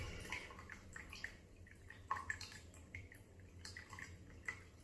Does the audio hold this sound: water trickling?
yes